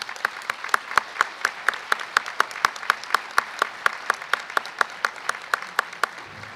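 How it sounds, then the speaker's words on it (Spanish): An audience applauds at an architecture education association's opening and awards ceremony in Mexico. The clapping is steady and evenly rhythmic, with sharp repeated claps sustained throughout. "Démosle un aplauso"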